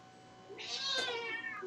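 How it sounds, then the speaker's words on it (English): A cat lets out one long, angry, drawn-out meow with a rising, strained tone, loud and close in a quiet indoor room with no talking. "that was the angriest meow I've ever heard out of Pippi."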